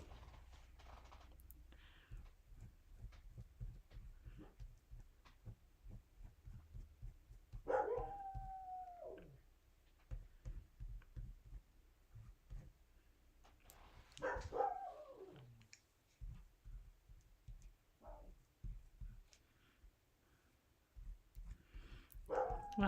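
Several neighborhood dogs bark and howl in the distance, with drawn-out howls rising twice and shorter barks between them over a steady low background rumble.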